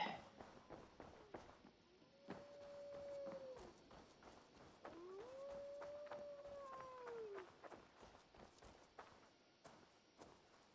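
A wolf howls in Assassin's Creed Valhalla, with long rising and falling calls repeated over steady game ambience and scattered footstep-like thuds, moderately loud.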